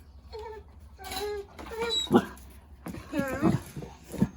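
A pet dog whines and whimpers indoors at home in several short, high, wavering bursts, close to the microphone and moderately loud, with brief pauses between them and no talking.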